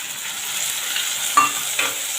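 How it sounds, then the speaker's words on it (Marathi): Onion and tomato sauté in a pan for a Konkan-style black pea sambar, giving a steady soft sizzle with two brief stirring scrapes near the end. "आता हे जरा चांगलं परतून घेऊया एक मिनिट"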